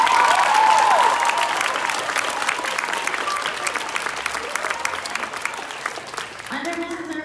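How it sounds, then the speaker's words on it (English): Sustained applause from a crowd at a spring band concert fills the room, loud and steady at first, then tapering slightly before a voice comes in near the end. "Please give her a big round of applause."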